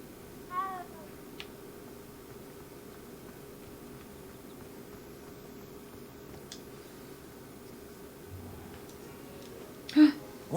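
A cat in the video game Hogwarts Legacy gives a short meow early on, then another brief cry near the end, both fairly faint over quiet ambient game sound.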